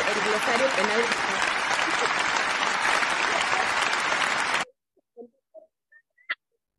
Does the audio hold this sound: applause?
yes